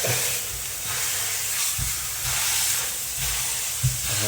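Beef mince pressed flat in a hot, dry pan, giving a steady broad sizzle and hiss with a few soft low thumps, close and fairly loud with no talking.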